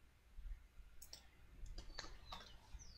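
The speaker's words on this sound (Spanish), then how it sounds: "damos clic aquí" Several sharp computer mouse clicks, close and quiet, scattered over a few seconds during setup of email and password sign-in for a Flutter app using Firebase, with no talking.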